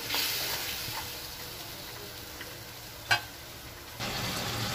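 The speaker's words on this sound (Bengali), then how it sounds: "এবার মশলাটাকে কষাবো" Spice paste sizzling in a frying pan while being stirred, a low steady hiss with a few soft scraping strokes and one sharp clink of the spoon against the pan.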